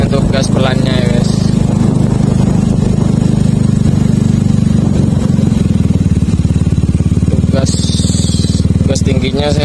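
A Yamaha Mio Smile scooter fitted with a ZRC exhaust idles and rolls at low throttle on a village road, giving a loud, steady, even engine rumble close by, with a few clattering knocks near the end.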